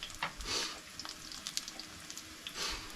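Potato pancakes fry in a pan at an off-grid cabin with a steady crackling sizzle, swelling into louder hissing bursts now and then, close up and with no talking.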